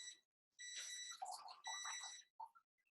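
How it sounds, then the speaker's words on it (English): A kitchen oven timer beeps to signal a pizza is ready, sounding as two long, loud, steady electronic tones followed by a few short, fainter blips. "that beeping is the oven telling me that my son's pizza is ready"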